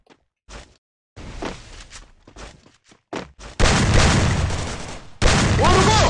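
Shotgun blasts and footsteps in a shooting video game: scattered steps and thuds give way to two sustained loud bursts of gunfire near the end, with no talk.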